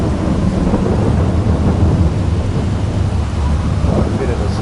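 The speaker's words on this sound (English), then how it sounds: "A bit of a storm brewing." Steady thunderstorm in the Farming Simulator 22 farming game: continuous heavy rain with deep rolling thunder rumbling throughout, loud and unbroken, with no voices.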